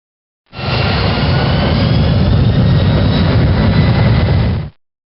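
Boeing 737NG jet engine in reverse thrust: a loud, steady broadband roar that swells in abruptly, holds for about four seconds, then cuts off, with no talking.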